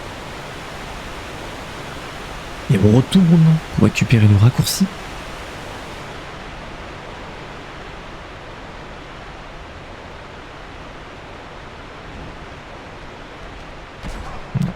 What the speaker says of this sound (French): On passe derrière la cascade.